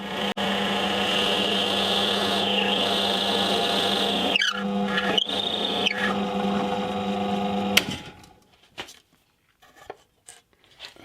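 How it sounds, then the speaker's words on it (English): A power drill with a 20mm Forstner bit whines at steady pitch as it cuts into a wooden guitar body, dips briefly mid-way, then stops, leaving a few faint clicks and handling sounds. "use a 20mm Forstner bit to create an indent in the back of the body"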